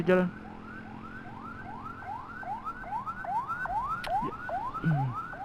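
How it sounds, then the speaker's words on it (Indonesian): An ambulance siren wails in rapid repeating rising sweeps, fairly close, over road and motorcycle engine noise in Indonesian traffic, with a couple of brief horn-like blips. "Dua ada ambulan di belakang, kita beri jalan dulu."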